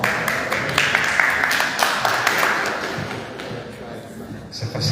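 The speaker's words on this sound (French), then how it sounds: "C'est facile l'applaudissement" An audience claps at an official gathering of public finance agents and partners at a hotel, the applause loud and dense at first and then fading gradually toward the end.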